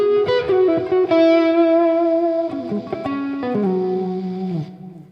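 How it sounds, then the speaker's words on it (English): Heavily distorted electric guitar playing sustained lead notes and bends with effects in a guitar solo, loud and close, ringing alone with no talking. "now you're going to notice I have a lot more distortion"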